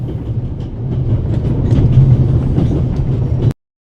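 The Orient Express train rumbles along in the video game The Raven Remastered, a loud, steady rolling drone with faint rhythmic clatter that cuts off abruptly, with no talk.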